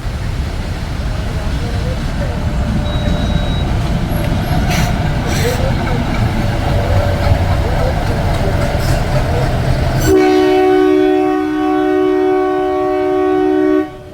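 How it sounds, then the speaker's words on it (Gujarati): A train stands at a railway level crossing with traffic waiting. Low rumbling engine noise fills the first part, then a loud sustained multi-tone horn blares nearby for several seconds before cutting off. "હમણાં અહીંથી ટ્રેન આવશે, ક્યારે આવશે કંઈ ખબર નહીં."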